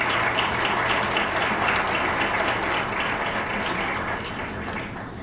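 An audience claps in welcome for doctors at a hospital talk on visceral fat, sustained, even clapping that thins slightly toward the end.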